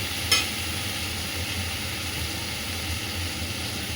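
Potatoes fry in a pan with fish head, onion and whole fenugreek seeds, giving a steady, dense sizzle with one brief clatter near the start and no speech.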